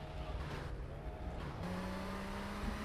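A car fitted with a new motor in GTA Vice City hums steadily up close, the engine tone shifting upward partway through as it accelerates, with no one talking.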